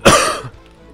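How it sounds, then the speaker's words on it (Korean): A single close, loud cough that trails off into quieter throat clearing. "기침이 계속 나오네요"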